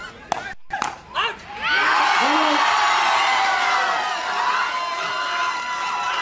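A crowd at a sports match erupts into sustained, loud cheering and whooping that swells and holds steady, preceded by a few sharp knocks and brief shouts.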